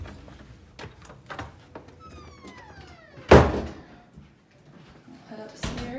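The front door of a house opens and shuts with one solid, close thunk partway through, surrounded by quiet handling noise and faint room sounds.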